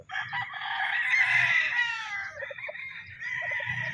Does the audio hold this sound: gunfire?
no